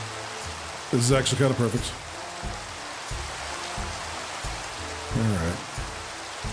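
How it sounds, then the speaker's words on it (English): Steady rain patters on surfaces as a constant hiss of drops throughout, while someone talks briefly over it. "Why is it raining?"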